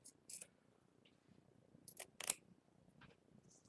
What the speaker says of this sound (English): So Let's cut out part.